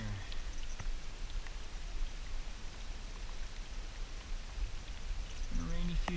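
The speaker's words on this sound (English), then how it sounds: "Getting a bit of rain here." Rain falls outdoors in the Temagami wilderness as a faint, steady hiss and patter that continues evenly throughout, with a few soft, distant knocks.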